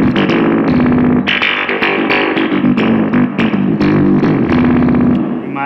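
An MXR Deep Phase phaser pedal with feedback and speed turned up sweeps fast and loud over a distorted electric guitar, giving a dense, swirling, continuous tone with no talking.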